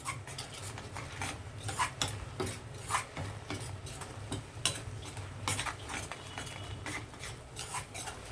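Mint chutney being stirred in a pan, a soft steady run of scraping and clinking strokes from the spoon against the metal, close and fairly quiet with no voice over it.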